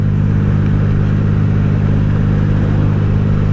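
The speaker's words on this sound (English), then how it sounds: "I'm on the big rocket today. Awesome touring bike." A big touring motorcycle riding along at steady speed, its engine droning loud and continuous with a deep low hum and wind rush throughout, no voices.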